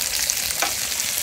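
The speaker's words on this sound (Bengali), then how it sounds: "পেঁয়াজ কুচিগুলোকে ভাজবেন।" Chopped onions fry over raised heat in a pan for an old-style pangash fish curry, giving a dense, steady, bright sizzle with no talk.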